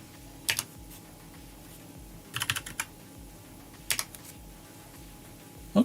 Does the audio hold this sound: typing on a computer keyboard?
yes